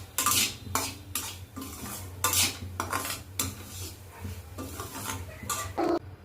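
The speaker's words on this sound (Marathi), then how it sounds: "आता याच्यामध्ये आपण काजू, बदाम आणि पिस्ता घालून हे छान आपण परतवून घेऊया" Cashews, almonds and pistachios stirred in ghee in a pan for sheera, a spoon scraping and clinking against metal in quick repeated strokes, close and crisp, with a faint sizzle underneath.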